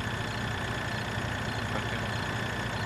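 A tractor engine in the video game Farming Simulator 2013 runs steadily, a loud, constant mechanical drone with an even idle-like hum and no speech.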